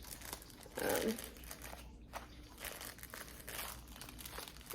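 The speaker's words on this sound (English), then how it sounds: "Let me get the fabric card out." A fabric card for cross-stitch being handled, one brief burst of papery crinkling near the start and then faint rustles against a quiet room.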